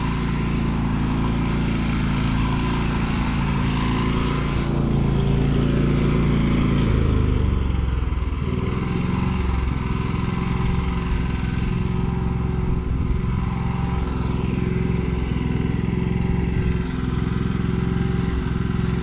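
An XP9000IH portable generator running on eco throttle gives off a steady, continuous engine drone with a low hum that changes slightly in pitch partway through, heard from about twenty feet away, with no talking.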